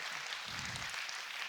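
Audience applause at the Evergreen Center awards ceremony, a dense, steady wash of clapping from a crowd, filling the whole short moment.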